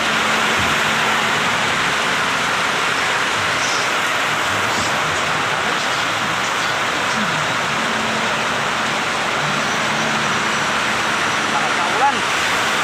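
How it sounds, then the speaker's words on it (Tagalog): Heavy rain pours steadily throughout, a dense, loud hiss with faint voices murmuring underneath. "Lakas ng ulan."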